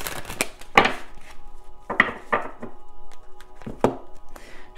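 Oracle cards are shuffled by hand in irregular bursts of crisp riffling and flicking, with soft taps between them, close and fairly loud in a quiet room.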